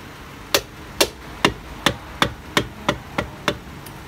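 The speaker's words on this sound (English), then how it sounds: "take your hammer." A hammer taps a power steering reservoir into place on a 2011-2014 Dodge Charger through a rag, nine sharp, evenly spaced knocks at close range with nothing else heard.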